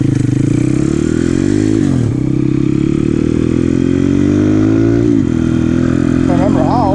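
A motorcycle engine runs loud and close, the note rising in two long revving pulls with a brief dip between as the rider prepares for a wheelie.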